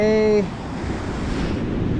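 Ocean waves wash steadily onto a foggy beach on an outgoing tide, a continuous broadband roar with a brief tonal sound at the very start.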